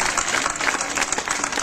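Strong, sustained applause from a crowd at a summer village event in Gümüşseren, Aşkale, dense clapping filling the whole stretch with no pauses.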